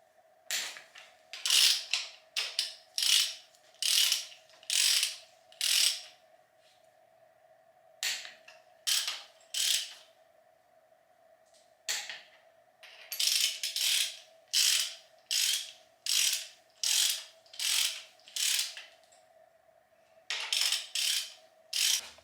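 A ratchet wrench clicks in repeated bursts while engine bolts on an AMC 360 long block are tightened to torque spec, close and distinct strokes in rhythmic runs with short pauses between sets.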